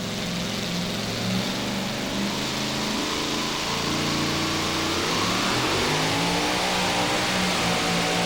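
A two-wheel-drive pulling truck strains at a 2008 truck pull in Chapel Hill, Tennessee, its engine roaring steadily and loudly for the whole stretch, the pitch wavering and bogging slightly under load.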